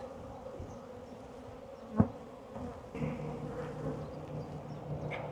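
Honeybees hum steadily around an opened hive during a swarm trap and frame check, a soft continuous buzzing close by with a single faint knock partway through and no talk.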